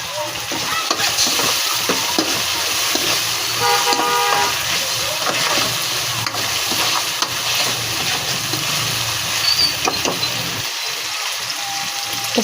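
Prawn gravy base sautéing in a pan before tomatoes go in, giving a steady loud sizzle with scraping stir strokes, plus a brief tonal beep near the middle.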